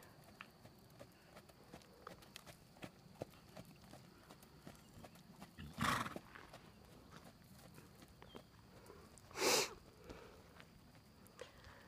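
A horse trotting in a dressage arena with a rider aboard gives soft, rapid, even hoof footfalls in steady rhythm, faint and moderately near, with a couple of brief louder thumps or snorts.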